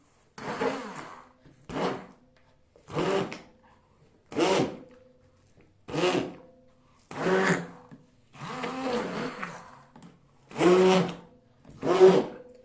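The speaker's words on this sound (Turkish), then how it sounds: "Şimdi blenderımızdan tekrar geçirelim." A blender blends a frozen blackberry ice cream mixture in nine short pulses of whirring motor noise, each about a second long and separated by brief pauses.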